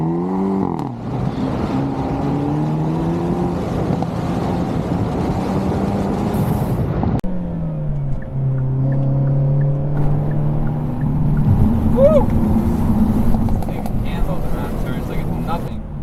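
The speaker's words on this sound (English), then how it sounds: "we're gonna get a little clips of it going around carving some turns" A Hyundai Elantra N on summer tires is driven hard through turns, its engine note rising and falling with shifts and revs, nearby and fairly loud, while a person talks over it.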